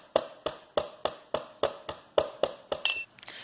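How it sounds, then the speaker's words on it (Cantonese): Half a tablespoon of white peppercorns is crushed for soup with about ten evenly spaced, sharp knocks, roughly three per second, close and clear, then a brief scrape at the end. "依家要中碎佢先，煲嘅時候就容易出味"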